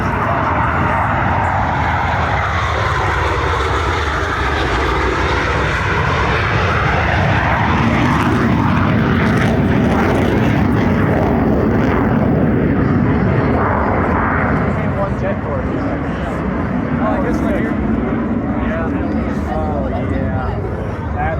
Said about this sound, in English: as both aircraft are in the carrier landing configuration